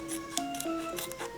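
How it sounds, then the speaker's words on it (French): Scissors snip through a Japanese 25th-anniversary Pokémon card booster pack in a few short, close cuts, with crisp crinkling foil wrapper between them. "pour les ouvrir, il faut utiliser des ciseaux."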